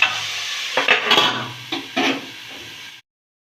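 Tomatoes with salt are stirred in a pan, giving a few short scraping and rustling strokes over a steady background hiss before the sound cuts off abruptly, close and without speech.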